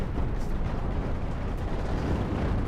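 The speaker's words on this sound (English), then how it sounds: "Because you see how the mines explode?" Mines explode in the space combat game Cosmoteer, making a dense, continuous rumbling roar of blasts that fills the whole stretch at steady loudness.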